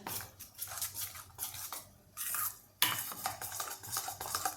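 A spoon stirs and mixes a batter of ripe banana for Konkani savory sandan in a bowl after hot tempering is poured in, with repeated close scraping and clinking strokes in a steady rhythm and no talk.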